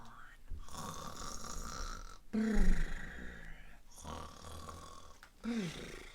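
A storyteller imitates a hibernating bear snoring in its den, giving three drawn-out rasping snores with pauses between them, close and fairly loud, with no other voices.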